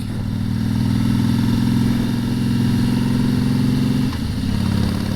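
A 2008 Harley-Davidson Heritage Softail Classic engine runs steadily in Vancouver traffic, a loud, close, deep throbbing rumble that holds an even pitch with a brief dip near the end.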